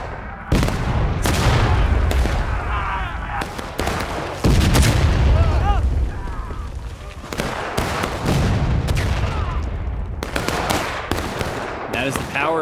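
Cavalry pistols firing in the Civil War game War of Rights, loud sharp shots in irregular bursts with echoing booms, a voice talking between them.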